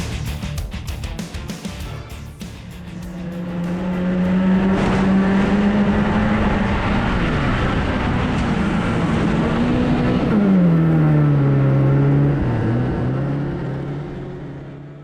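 Racing cars or karts accelerate hard out of a slippery corner while overtaking, loud engine notes rising and falling in pitch as several pass close by, a steady roaring rumble with no talk.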